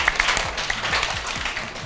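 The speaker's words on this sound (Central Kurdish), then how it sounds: "یەک چەپڵە" A school class of children clapping together in a room, a brief burst of dense, fast applause heard close and loud, with a murmur of voices beneath it.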